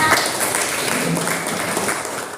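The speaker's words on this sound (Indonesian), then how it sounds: "Tepuk tangan semuanya" Students in a classroom applaud continuously, a dense steady patter of many hands clapping at once, fairly loud throughout.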